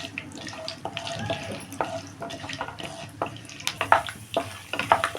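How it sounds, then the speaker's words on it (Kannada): Peanuts, chana dal and urad dal frying in a pan for onion puliyogare, with scraping stirs and light clinks of a utensil against the pan, a soft steady crackle beneath, no voices. "ಕಡಲೆ ಬೀಜ ಇದು ಫ್ರೈ ಆಗಲಿ ಸ್ವಲ್ಪ ಇದ್ರ ಜೊತೆಗೇ ಕಡಲೆಬೇಳೆ ಉದ್ದಿನಬೇಳೆ ಹಾಕ್ಬಿಟ್ಟು ಸ್ವಲ್ಪ ಫ್ರೈ ಮಾಡಿ"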